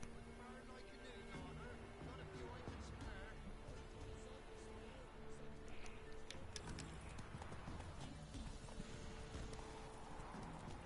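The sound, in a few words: horse hooves galloping in The Witcher 3 video game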